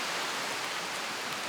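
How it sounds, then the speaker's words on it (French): Rain falls steadily on a hut, a dense, even hiss of drops with no breaks, heard from inside the shelter. "Là, il pleut et c'est le premier test de la cabane"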